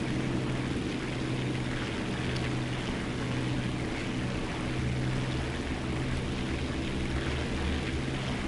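Steady, dense aircraft engine drone in the War Thunder flight game, a continuous broad roar with a low hum that holds evenly throughout without pauses.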